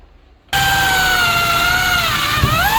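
A power drill starts abruptly and runs at a steady high whine while boring through aged teak wood, the pitch sagging slightly as the bit bites in; loud and close.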